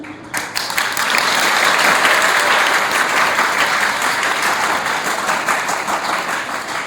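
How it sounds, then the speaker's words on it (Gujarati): Hands clapping across an audience at a class 12 farewell ceremony, a dense, loud burst of applause that starts abruptly and holds steady for several seconds. "તાળી પાડો, વાંધણી તાળી તો મજા આવે તાળી પાડવાની."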